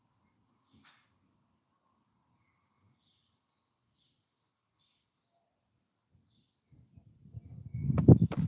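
Oystercatcher giving a series of repeated high piping calls at a steady pace, fairly close, followed by a burst of louder rumbling noise near the end.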